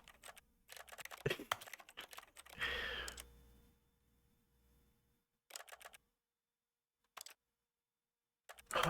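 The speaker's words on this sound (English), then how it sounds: "I love the keyboard sound when you're in the menu." Clattering keyboard typing sounds from the menu of the video game The Stanley Parable come in several short bursts of rapid clicks separated by silent gaps, close and crisp.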